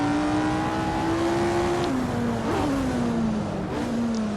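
A high-pitched Lotus 49 race car engine in a racing video game screams steadily, revving up through several gear changes with a smooth, continuous whine.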